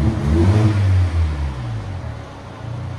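A 2019 Volvo S60 T6 2.0L turbo with its muffler deleted revs hard, a close, loud engine blip that climbs and drops back into a lower, rumbling idle.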